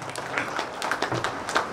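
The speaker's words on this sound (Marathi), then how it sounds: "जोरदार टाळ्या होऊन जाऊ देत." Audience applause at a business growth conclave in Maharashtra, a steady wash of clapping from a crowd running the whole time with no voices on top.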